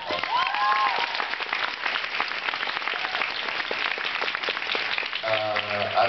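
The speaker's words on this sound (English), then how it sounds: "let's get a round of applause for Sarah Paulson" A convention crowd at a fan expo Q&A applauds for Sarah Paulson, with dense, sustained clapping from a large audience throughout and a few cheers rising above it.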